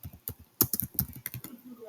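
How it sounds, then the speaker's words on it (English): Computer keyboard typing, a quick uneven run of close, crisp key clicks with a short pause midway. "I'm going to do some typing somewhere"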